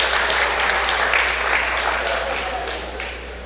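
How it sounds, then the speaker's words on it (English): An audience at a UNC pre-budget consultation in Tableland claps for Aldrich Joffa, a dense burst of applause that fades slowly toward the end. "Give him a round of applause again."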